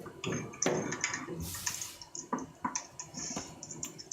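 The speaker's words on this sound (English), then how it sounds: "that's my nails clicking because I've got long nails" Long fingernails click and tap on a computer keyboard in irregular bursts of sharp close clicks, mixed with other faint household sounds.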